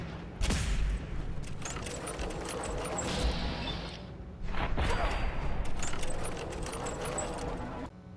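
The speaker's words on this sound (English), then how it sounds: "Is that the only guy shooting at me right now?" Enemy gunfire in Fallout 4 crackles in dense bursts through a busy combat scene, with louder volleys near the start and again around the middle, layered over constant game noise.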